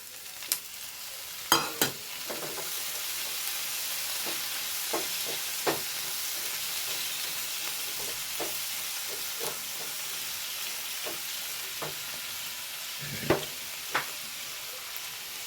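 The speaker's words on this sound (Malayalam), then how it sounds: "ഇനി ഇതിലേക്ക് നമ്മൾ എടുത്ത് വെച്ച തക്കാളി ഇട്ട് കൊടുക്കണ്ടേ" Tomatoes sizzling in a Chinese-style frying pan as they cook down for a curry, a soft continuous hiss broken by sharp clicks and scrapes of stirring, with no voices.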